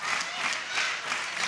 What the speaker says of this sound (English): I think the crowd is cheering for me.